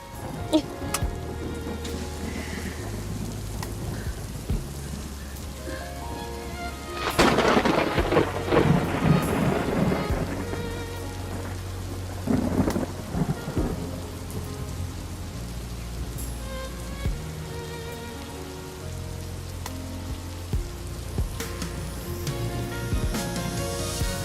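Steady rain falls throughout, with rolling thunder swelling loudly in the middle before fading back to the patter, over soft background music.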